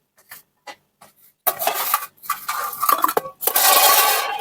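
Chicken liver (kolija bhuna) stirred and sautéed in a pan, a few faint scrapes at first, then a steady, close scraping and sizzling rasp of a spoon against the pan that carries on almost without pause.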